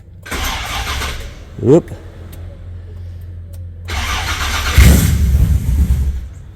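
A car engine with a Lexus LS hybrid swap cranks and starts, with a short chirpy crank early, a pause, then a catch and fire into a loud running rumble while a person talks briefly.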